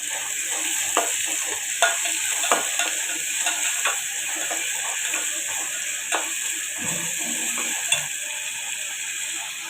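Masala fries with onion and green chili for chicken curry, a steady sizzle under repeated scraping strokes of a spoon stirring the pan, close and continuous.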